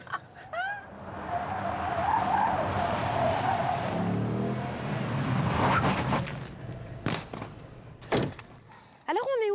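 A car drives fast on a gendarmerie test track, its engine roaring loud and close as the tires skid and squeal. Speech in French is heard at the start and end.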